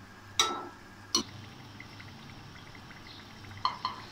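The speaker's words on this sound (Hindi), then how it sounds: "इसी तरह हम तमाम समोसों को फ्राई कर लेंगे।" Mince samosas frying in oil give off a quiet, steady sizzle, broken by a few sharp metallic clinks of a utensil against the pan.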